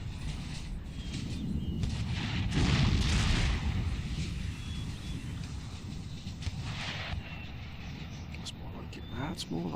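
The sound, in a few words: cannon artillery fire in Empire: Total War video game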